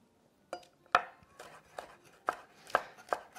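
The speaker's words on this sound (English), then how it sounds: "I'm just cutting them into about equal lengths so that when I cut through them, the pieces will be relatively similar size." A knife cuts celery on a cutting board in about six separate chops. Each stroke lands as a firm, close knock with a short gap between cuts, and the room is otherwise quiet with no talking.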